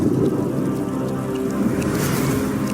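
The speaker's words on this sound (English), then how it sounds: "Until the retroact rain began to fall." Rain and rolling thunder in Wuthering Waves, a dense low rumble under a steady patter of drops, loud and continuous through the short stretch.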